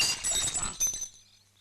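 Glass bottle falling and shattering in a Tamil film scene: a loud burst of breaking glass with clinking shards, then quickly fading to near silence.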